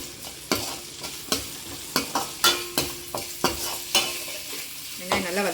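Green chillies broken into pieces sauté in a pan for Chettinad-style chicken chukka, a steady close sizzle punctuated by regular spatula strokes against the pan, roughly one every half second, with no talk.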